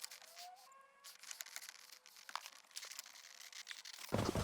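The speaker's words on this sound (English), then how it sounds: "We need to add a little more tape to this." Tape is torn and crinkled during a remote start install on a 2018-2019 Toyota Tundra with an H-key, heard as faint, close, irregular ripping and rustling with a louder tear at the end.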